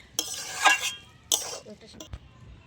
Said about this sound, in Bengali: এটা গোল চামচ নিয়ে শাকটাকে ভালোভাবে ঘুটে নেব।